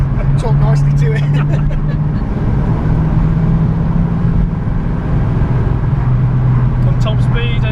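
A 1964 Ford Mustang with a non-standard 351 engine cruises with a steady low engine drone and road rumble, while people talk inside the car over it throughout.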